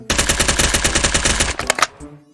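Rapid automatic gunfire from a Gun3D gun add-on in a video game rattles out in a loud, evenly spaced burst of about a dozen shots. A couple of heavier final shots follow before a short mechanical tail fades out.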